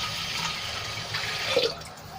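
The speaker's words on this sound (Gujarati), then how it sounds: "તો અહીંયા હું ત્રણ ગ્લાસ જેટલું પાણી એડ કરું છું" Water pours steadily from a glass into a pressure cooker holding dal and rice, three glassfuls added for boiling, a continuous close splashing stream lasting the whole moment with no talk.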